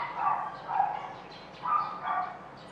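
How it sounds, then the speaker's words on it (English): A neighbor's dog barks at some distance, four muffled barks in two pairs, carrying over a quiet background. "my neighbor's dog, listen to this"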